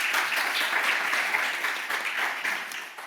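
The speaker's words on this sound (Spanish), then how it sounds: "un aplauso para él" Steady audience applause welcoming a guest speaker at a talk on visibility and solidarity, a dense, even wash of many hands clapping at close range that fades slightly toward the end.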